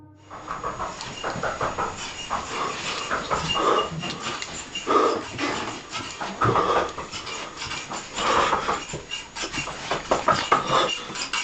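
A frightened man breathes heavily and raggedly as he walks through a house, with close, repeated panting breaths and no speech.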